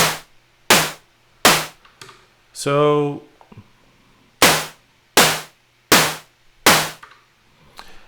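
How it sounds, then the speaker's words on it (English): Repeated short, noisy synth snare hits from a Moog DFAM in a steady rhythm, sharp and dry, with a brief spoken word in the middle of the pattern. "it is sort of the idea of a synth snare."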